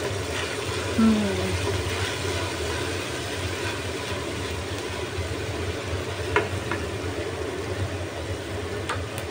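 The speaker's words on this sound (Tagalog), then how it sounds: "Ngayon ay ilagay ko ang ating fish sauce" Filipino-style white-sauce spaghetti base sizzling in a pan as fish sauce goes in, a steady close frying hiss with faint scraping clicks throughout.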